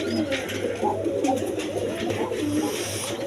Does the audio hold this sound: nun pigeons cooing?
yes